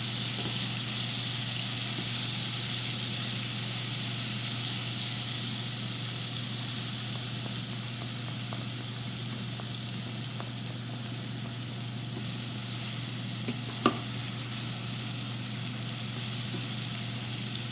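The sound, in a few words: onions frying in a pan for chicken liver adobo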